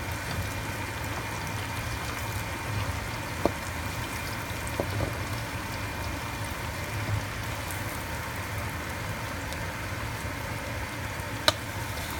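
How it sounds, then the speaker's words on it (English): Arepas frying in hot oil, a steady broadband sizzle with crackling throughout and a few sharper pops, close and continuous with no voices. "After putting the arepas into the oil, you want to make sure that it's not sticking at the bottom."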